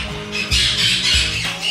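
A bird squawks loudly and repeatedly, harsh broadband calls recurring in bursts at close range by a river while fishing for peacock bass.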